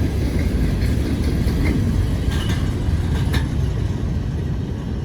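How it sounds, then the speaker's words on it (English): A long freight train with a DPU rolls steadily through a railroad crossing, a continuous loud rumble of rail cars close by with faint clicking from the wheels and no voices. "Wow, that was a long train."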